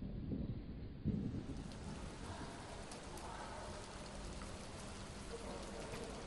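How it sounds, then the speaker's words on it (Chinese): Heavy rain pours steadily onto surfaces in rural Guizhou, China, with a deep roll of thunder near the start and a dense, continuous hiss of downpour throughout, no voices. "大雨如期而至"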